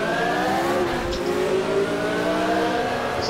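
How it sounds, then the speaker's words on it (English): Car engine revving in the Automobilista racing game at the start line before a formation lap, a steady loud droning roar with rising and falling harmonic tones held throughout, no voices. "Start the car."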